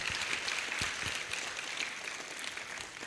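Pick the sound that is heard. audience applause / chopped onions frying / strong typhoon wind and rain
audience applause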